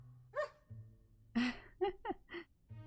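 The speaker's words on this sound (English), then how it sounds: "But how come he barks?" A cat character barking like a dog in the Cthulhu adventure game Gibbous, several short barks and huffs with pauses between, close and clear.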